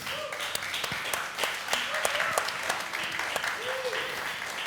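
Audience at a talk applauds with steady, dense clapping that continues throughout, moderately loud, with a speaker's voice heard faintly over it.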